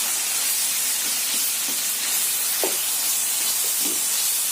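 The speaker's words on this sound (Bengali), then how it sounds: "সাইডে কাজু কিশমিশগুলোকে দিয়ে আমরা একটু ঘিয়ের সাথে ভেজে নেব।" Cashews and raisins fry in ghee beside carrots in a pan for carrot halwa, giving a steady close hiss with a few faint soft clicks and pops scattered through it.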